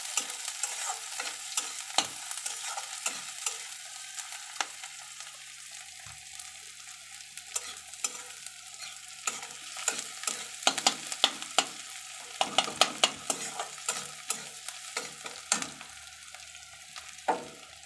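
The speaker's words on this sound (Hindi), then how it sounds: "हमें अच्छे से गुलाबी होने तक भूनना है।" Ginger, garlic, green chilli and onions fry in a pan to a soft, constant sizzle, with frequent sharp scrapes and taps of a spoon stirring throughout.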